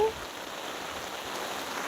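Steady rain falling outdoors during a walk, an even, dense hiss of drops on surfaces throughout, moderately loud with no other distinct sounds.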